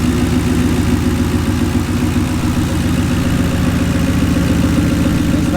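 Aluminum-block, aluminum-head 4.6 V8 running close by with a steady, throbbing low rumble; the revving is mild and the pitch stays fairly even throughout, with no voices.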